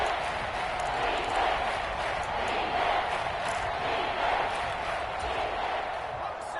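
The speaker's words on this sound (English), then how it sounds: "the crowd getting into it as we come up on a big 3rd down" Stadium crowd noise in a PS4 American football video game, a steady loud wash of cheering that holds through the whole stretch ahead of a big third down, with no break.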